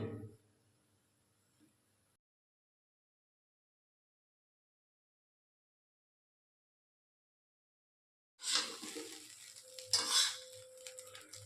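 Restaurant-style mixed fried rice with sugar, chili powder and white oil is stirred in a pan, heard as a short burst of scraping and clattering after a long silence, with a faint clink at the start.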